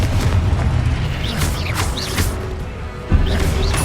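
Confringo blast spells explode in the Hogwarts Legacy video game as a run of booming, crashing impacts with sharp bursts layered over heavy low rumble, loud and close throughout.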